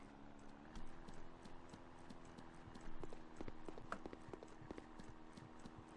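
Horse hooves clip-clop in the WW2 Online war game, a steady run of hoofbeats at moderate level over continuous background game noise, with no voices.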